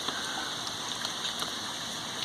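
Light drizzle falls in a backyard as a soft, continuous hiss of fine raindrops, steady and quiet with no voices.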